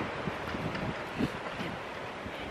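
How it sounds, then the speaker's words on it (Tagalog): Strong wind gusting outdoors in Germany, a steady broadband roar with rustling buffets against the microphone and no voices. "Ang grabing lakas ng hangin."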